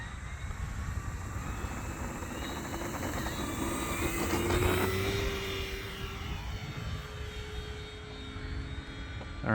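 An FMS P-47 Razorback RC model airplane flies overhead on a New Year's Day outing, its electric motor and propeller drone swelling as it passes close, then easing off into a steady whine.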